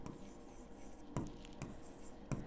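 Handwriting an answer while working a Class 10 trigonometry problem, a soft continuous scratching of pen on paper with a few sharper strokes, close and quiet.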